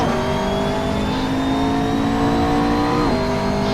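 McLaren GT3 race car engine at Nürburgring GP circuit, accelerating hard with a steady loud high-revving drone held throughout, a brief pitch dip near the end like a gear change before climbing again.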